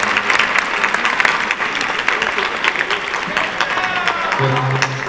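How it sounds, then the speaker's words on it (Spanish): Strong audience applause at a folk music concert in Potosí, dense continuous clapping throughout, with a voice briefly audible over it near the end. "Fuerte el aplauso, por favor."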